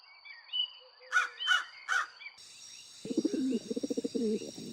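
Crows caw in a cartoon, three loud harsh calls in a row, followed by a high steady tone and a quick fluttering burst of bird sounds.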